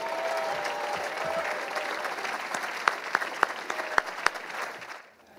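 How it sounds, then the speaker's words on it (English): Audience applause at a university athletics hall of fame induction ceremony, steady clapping from a crowd in a hall with a few sharper claps near the end before it fades out. "How about one more round of applause for the 1968 team?"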